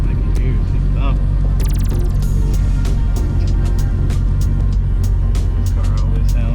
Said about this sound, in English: This car always sounds like a beast.